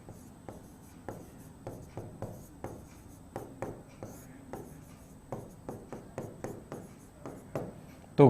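Chalk or marker tapping and scratching on a classroom board during a Hindi-language chemistry lesson on d- and f-block transition elements, with a steady run of short, close strokes.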